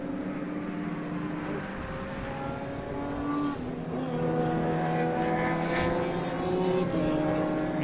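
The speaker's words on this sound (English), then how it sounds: "here's a battle between a pair of Honda Civics" A pair of Honda Civic race cars battle at Silverstone Grand Prix circuit in a Britcar Trophy race, their engines droning steadily and rising and falling in pitch at a moderate distance.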